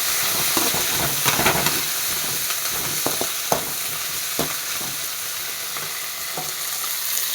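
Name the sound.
sautéing tomato, coriander and coconut for chutney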